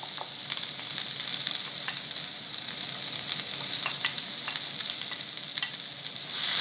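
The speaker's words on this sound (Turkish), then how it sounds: "Ve bunları hızlıca karıştırarak kavuruyoruz." Red and green peppers fry in hot olive oil and are stirred quickly in the pan, giving a close, steady sizzle with light scraping and tapping from the stirring.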